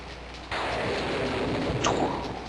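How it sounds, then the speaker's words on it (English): Pixelated rain and thunder from King's Quest 6 set in abruptly with a dense, hissing rush of rainfall, joined by a brief rumbling crash near the end as the downpour continues. "Alexander feels a drop. It starts to rain."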